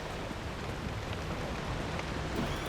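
Rain pours down continuously in the Pacific Drive game world, a thick broadband hiss of drops hitting surfaces, steady and close, with no talking.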